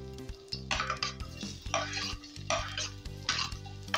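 Ginger and garlic being stirred in a cooking pan, with repeated scraping strokes of a utensil against the metal over a soft sizzle, close and clear.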